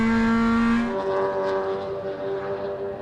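A race car laps Sydney Motorsport Park during the Sydney 300 endurance race, its engine note loud and steady before shifting down as it comes off the throttle. A strong buzzing drone continues throughout.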